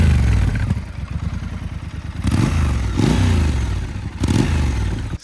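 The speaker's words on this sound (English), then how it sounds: "Such a cool sounding engine." Close, loud exhaust from a 2022 Triumph Scrambler 1200 XE, a throbbing idle broken by three sharp throttle blips that rise and fall back, with the engine cutting off at the very end.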